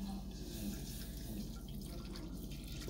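Tap water running steadily into a cooking pot in a home kitchen before noodles are boiled, a continuous close trickle and splash with faint drips, no voices.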